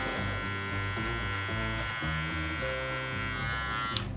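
Electric hair clipper buzzing steadily and close while cutting a mid-bald fade, its motor hum shifting slightly in pitch as the blades are worked through the hair, with one brief sharp click near the end.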